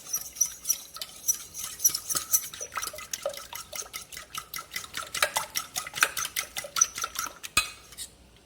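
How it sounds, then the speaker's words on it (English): Egg yolks for lemon curd whisked briskly in a bowl, a rapid run of light clinking utensil strokes against the bowl, close and steady, with no voices. "We're going to mix it really well, making sure we break up all of those egg yolks."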